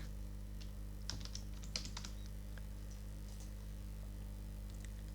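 Keys on a computer keyboard are tapped in short, irregular bursts over a steady electrical hum, faint and close, while entering words into a spreadsheet program, with no talking.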